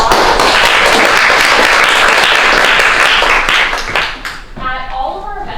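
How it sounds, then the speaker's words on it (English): An audience at a speaker event in Berkeley applauds in a loud, dense burst of clapping that fades after about four seconds, followed by a voice speaking. "Give another round of applause."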